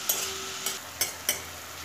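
Beto shak greens with turmeric and salt being stirred in a frying pan, a soft sizzle running throughout with four sharp scraping strokes of the spatula spaced about half a second apart, close and fairly quiet.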